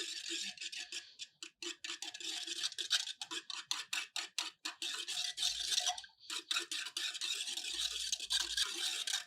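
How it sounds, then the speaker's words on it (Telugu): Rapid, rhythmic scraping and clicking of a spoon stirring thick ragi porridge against a bowl, close up, with a brief pause midway and no talk. "దీన్ని కలిపేసి"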